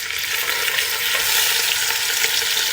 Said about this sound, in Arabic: حطيت زبدة وزيت زيتون. أول ما يسخن معي حط راس السمك.